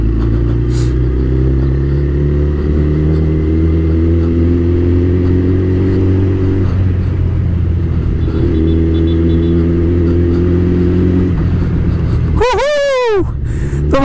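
A Suzuki Hayabusa superbike's engine rumbles steadily and close by after a cold start, holding a deep even drone before a sharp rising rev near the end as the bike pulls away.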